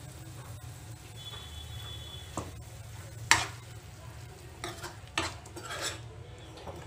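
Blended tomato puree poured into a pan of sizzling chicken for chicken bhuna, with a steady low frying hiss and occasional utensil scrapes and clinks as it is stirred in; no talking.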